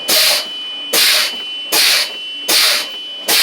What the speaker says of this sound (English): I'm doing this until my indicator comes on and it holds and the buzzer sounds